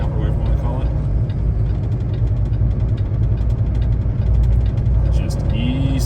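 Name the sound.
car engine at low revs driving downhill in snow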